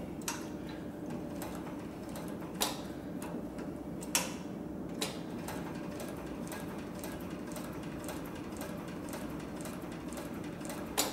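Cylinder-bed leather sewing machine stitching under pedal control, a steady mechanical hum with ticking needle strokes that shift in pace, a few sharper clicks standing out, no talk.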